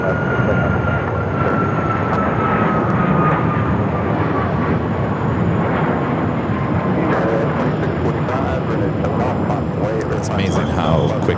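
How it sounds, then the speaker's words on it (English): A Boeing 737 MAX 8 bound for Honolulu takes off from runway 7 left at Phoenix Sky Harbor Airport with a steady, heavy jet engine roar throughout, while voices talk over it. "MAX 8 heading to Honolulu, flight 2240. Now rolling down, 7 left."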